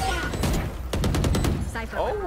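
An explosive breach goes off in a tactical shooter game, a burst of rapid blasts and gunfire crackling for about a second amid game noise, with a voice shouting over it and more talk right after.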